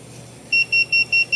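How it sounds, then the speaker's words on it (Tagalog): A microcontroller-based prepaid electricity metering device sounds its alarm as the balance runs out: five short, evenly spaced electronic beeps over a faint steady hum, with no talking. "nag-alarm po bigla yung device natin and nag-automatic trip na rin po siya"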